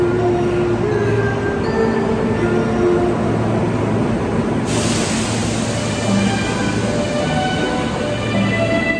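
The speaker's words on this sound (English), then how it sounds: "Actually, there's a train coming in on this track." Kintetsu train pulling into a station, a loud continuous rumble of wheels and carriages with faint high squeals and tonal whines, steady throughout with no talk.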